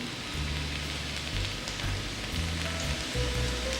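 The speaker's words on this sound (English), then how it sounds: "You can hear the sizzling noise from the potato" Potato fries sizzle steadily in hot ghee and coconut oil, a dense continuous crackle close up with no talking.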